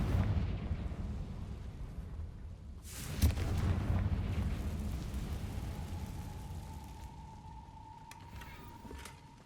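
A Confringo spell blast in Hogwarts Legacy, a single sharp burst near the middle that trails into a rumbling, crackling wash, followed later by a steady tone.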